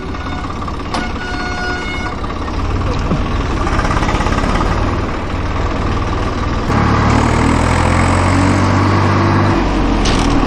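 A tractor engine runs loud and close in fourth gear on a village ride, a continuous droning rumble that swells and steps up in pitch partway through, with faint voices underneath.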